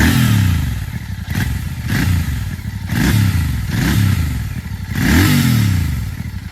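A Royal Enfield Continental GT 650 motorcycle revved up close, four or five rising-and-falling throttle blips in a regular rhythm, loud, with some clattering at idle between bursts.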